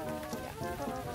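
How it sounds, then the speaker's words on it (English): Hail falls outdoors in a dense, steady patter of small impacts across surfaces, fairly quiet and without talk. "That's definitely hail."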